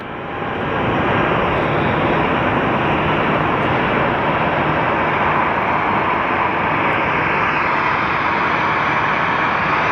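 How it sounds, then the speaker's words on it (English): Passenger airplane in special livery passing at Sky Harbor Airport, a loud, steady engine roar swelling in over the first second and holding broad and sustained throughout. "pardon the interruption for this plane"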